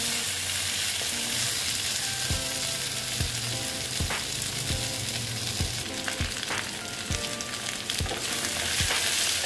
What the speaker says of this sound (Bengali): দিয়ে আবার টমেটোটার সঙ্গে একটু ভালো মতো ভেজে নিচ্ছি